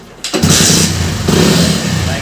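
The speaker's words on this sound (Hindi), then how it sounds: "अब इस बाइक को स्टार्ट करते हैं" A motorcycle fitted with an LPG kit cranks and starts, then settles into a loud, steady idle close by, with no talk.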